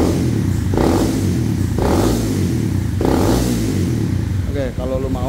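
A Honda CBR250R fitted with a custom Kawasaki Ninja muffler revs hard to about 10,000 rpm, rising in three loud, close surges before a brief drop, with someone talking over the engine near the end.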